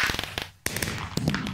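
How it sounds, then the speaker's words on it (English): Celebratory fireworks bursts from an achievement in modded Minecraft, several sharp crackling pops in quick succession, moderately loud, with a brief silent gap before a louder burst. "every time you get an achievement in this game, you have fireworks"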